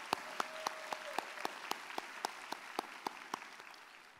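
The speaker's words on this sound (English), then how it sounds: "Can we please give her another round of applause because she truly deserves it all." Graduation ceremony audience applauds faintly, with a steady wash of clapping and a regular run of sharper single claps standing out over it.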